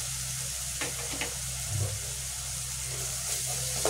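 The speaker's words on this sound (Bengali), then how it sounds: "মশলাটা ভালো করে কষিয়ে নিই আগে" Spice paste sautéing for a chitol fish curry, a steady sizzle with occasional stirring scrapes and clicks of the spoon against the pan, close and continuous.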